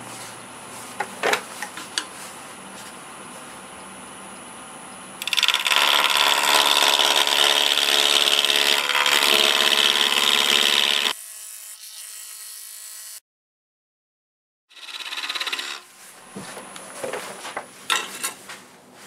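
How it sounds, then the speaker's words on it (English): A parting tool cuts into wood spinning on a lathe at about 1000 RPM, giving a loud, steady scraping hiss for several seconds, then a sudden stop, silence, and a shorter burst of cutting with some tool clatter. "I'm going to see if I can cut this with a parting tool. And we're doing about a thousand RPMs."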